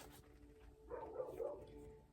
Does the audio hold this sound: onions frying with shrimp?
no